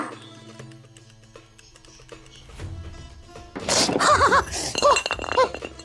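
A glass bottle is dropped and clatters with several bright clinks and knocks without shattering. It starts faint, then lands in a louder cluster of ringing glass hits.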